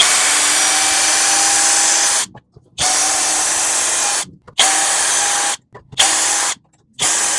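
A Hanabi LJ-2023 cordless screwdriver running close and loud in reverse to remove a screw, with a steady whine in four bursts separated by short pauses, the later bursts briefer.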